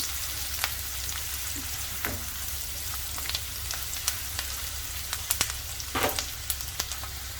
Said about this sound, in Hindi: एक छोटा सा प्याज लिया है मैंने, इसे हाई फ्लेम पर भून लेंगे 1-2 मिनट के लिए।